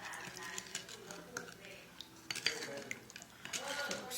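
Chili sauce being stirred in a bowl while cooking Lao-style bánh cuốn, with scattered light clinks of a utensil against the dish and soft wet scraping, close up, under someone talking.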